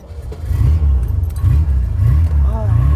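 A Torino car engine, unmodified and running through its original exhaust, revs in repeated deep rumbling swells close by while someone talks over it.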